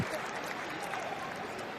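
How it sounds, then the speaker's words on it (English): Werder Bremen supporters give a steady round of applause as Chelsea's John Terry gets to his feet and walks off during a pre-season friendly, a dense, even wash of clapping from the stands throughout. "he does get a nice round of applause from the Werder Bremen faithful here"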